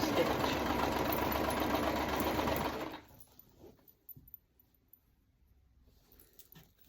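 A sewing machine stitches a bag in a steady, loud mechanical whir for about three seconds, then stops, leaving faint handling clicks and rustles in a quiet room.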